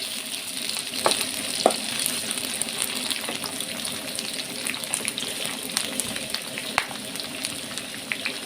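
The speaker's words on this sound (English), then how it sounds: "I'll also make sure to cook under medium heat for my meal not to get burnt. And I'm going to stir this up." Breakfast sausage fries over medium heat in a pan, a constant close sizzle broken by occasional scraping and knocking as it is stirred.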